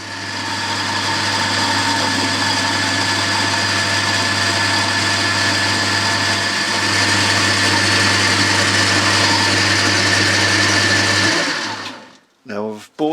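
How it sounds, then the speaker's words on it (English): A metal lathe bores out a bore to fit a taper nut, holding a steady, close whining drone for about eleven seconds before it winds down and stops. "So what I'm doing at the moment is just boring this out until this taper nut that we made will just start to go in the bore."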